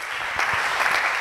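A church congregation applauding after a scripture reading, a dense, steady burst of clapping from many hands filling the whole short moment.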